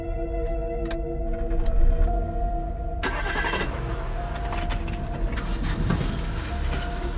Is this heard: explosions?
no